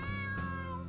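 A cat in a video game lets out a single short, clear meow that rises and then trails off.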